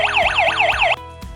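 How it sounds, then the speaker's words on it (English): An AP100 WiFi alarm hub from ZKTeco sounds its siren, a loud rising-falling electronic wail cycling about four times in quick succession before cutting off, followed by a couple of faint clicks. "The alarm hub will trigger an alarm immediately"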